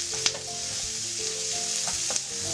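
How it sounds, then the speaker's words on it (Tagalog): Beef cheek stew sizzles steadily in a pan as it caramelizes, stirred with a few scraping strokes. The frying crackle is loud and close, and no voices are heard. "Yan lang halo."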